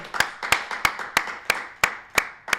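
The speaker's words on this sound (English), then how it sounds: "Let's give him a round of applause for Mr. Jack McKaig." A single pair of hands claps eight times in a slow, even rhythm, close and distinct, at a summer orientation event, with no voices over it.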